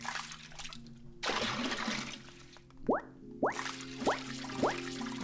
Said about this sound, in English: This is all about when exactly and where exactly I flood the room with red water